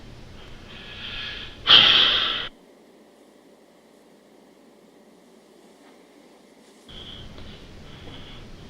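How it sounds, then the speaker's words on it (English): A man's heavy, audible breathing in a courtroom during a trial: a loud, close breathy burst that sounds like a snort, then a long quiet stretch, then softer steady breathing returns. "You're breathing kind of heavy,"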